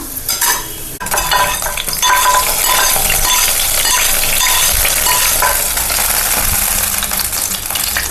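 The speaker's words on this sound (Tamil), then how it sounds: "கிஸ்மிஸ் முந்திரி நல்லா வறுத்தாச்சு இந்த பாருங்கள் இப்போ வந்து இதை பாயாசத்தில் ஊற்றிடலாம்" Raisins and cashews fried in a pan are tipped into sago payasam, making a loud continuous sizzle with clinks and scraping of a metal spoon throughout, and no voices.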